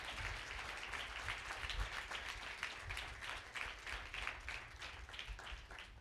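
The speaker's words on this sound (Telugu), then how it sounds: "గట్టిగా చప్పట్లు కొట్టి దేవుడిచ్చిన వాక్యంకి స్తోత్రం చెప్తా" A church congregation clapping loudly together in steady, dense applause that fills the whole stretch without a pause.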